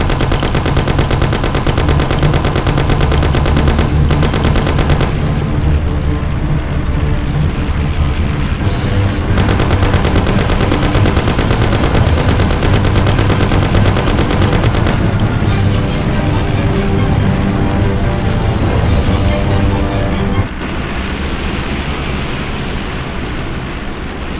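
Gunfire rattles in Mafia, loud sustained machine-gun bursts and shots over a roaring car engine during a chase, continuous and close, easing as the firing drops off near the end.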